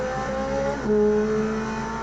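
Modded race car in the Automobilista 2 racing game, its engine howling at high revs with a shrill, F1-like tone that dips briefly at a gear change and then climbs again, steady and loud throughout.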